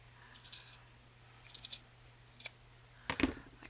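Scissors snip through mop strands for a mop angel craft, a few soft quiet clicks followed by a louder cluster of crisp cuts near the end.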